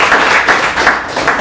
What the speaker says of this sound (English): Everyone give Steve a round of applause.